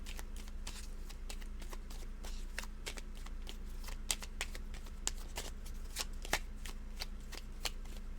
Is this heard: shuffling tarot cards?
yes